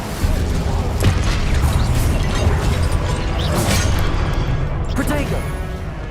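Incendio fire spell cast in Hogwarts Legacy, a dense roaring burst of flame with crackling pops and booms that lasts the whole few seconds, loud and close, with a couple of sharper bursts near the start and end.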